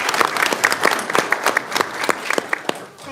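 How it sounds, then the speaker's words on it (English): A short burst of applause from a small crowd at a township committee meeting, brisk clapping that carries on evenly for a few seconds before tapering off. "So let's give them a round of applause."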